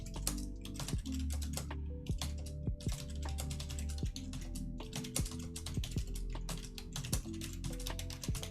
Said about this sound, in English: I just type with like these 3 fingers and I just move them around without looking.